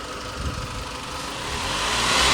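A car engine with a throttle position sensor fault and repaired wiring revs up close by, its steady running tone rising and growing louder toward the end.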